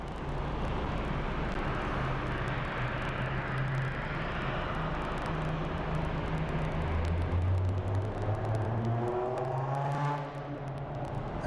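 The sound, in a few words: loud car passing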